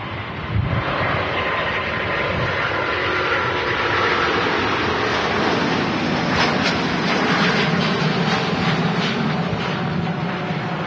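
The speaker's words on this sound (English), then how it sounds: "Singapore Airlines A350 900 heading off to Houston. Now rolling on the runway." Singapore Airlines Airbus A350-900 rolling down the runway at Manchester Airport for takeoff, a loud sustained engine roar with a rising whine that stays steady and powerful throughout, heard from nearby with no voices.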